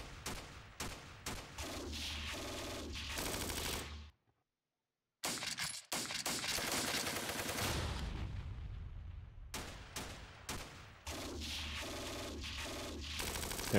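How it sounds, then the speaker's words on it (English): Squads exchange gunfire in the wargame Steel Panthers, with repeated cracking shots and bursts of automatic fire, some shattering impacts, and a brief full silence partway through. "They're firing back though."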